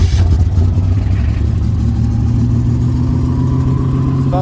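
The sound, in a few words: turbo Buick engine starting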